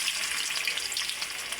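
Chili and garlic frying in an oil-filled pan, a steady close hiss and crackle of sizzling that carries on without a break and with no voices over it.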